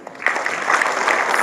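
An indoor audience at an IT awards event breaks into applause, a brief burst of many hands clapping that builds quickly.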